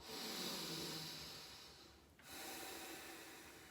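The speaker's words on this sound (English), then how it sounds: "Take a few breaths." Slow, close breathing during a wide-legged forward fold stretch, one long breath trailing off into a short pause and then a fresh, noisy intake, soft and intimate with no talking.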